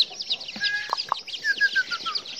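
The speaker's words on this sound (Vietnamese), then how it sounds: "mấy bạn gà ta nuôi cùng đấy." Domestic chickens cluck in short, uneven bursts while thin, high peeping chirps of young birds run steadily over them, close by and moderately quiet with no talking.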